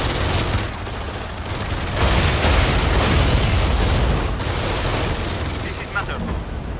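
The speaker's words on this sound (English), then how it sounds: "Explosions inside the refinery compound." Sustained rumbling explosions and crackling bursts inside a refinery compound during an EndWar battle, loud and continuous with heavy low-end booms rolling across the whole stretch.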